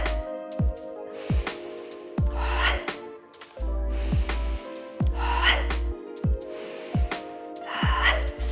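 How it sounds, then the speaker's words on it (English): During a guided breathing exercise, a person takes quick, sharp sniffing inhales through the nose in close, repeated bursts, forming a steady rhythmic pattern with brief gaps and a low hum beneath. "Sniffing breath."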